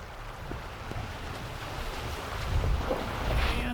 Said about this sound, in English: Water crossing.